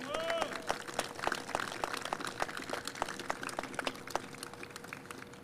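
An indoor audience claps at a change of command ceremony, a spread of scattered, moderately loud claps that thin out and fade over several seconds.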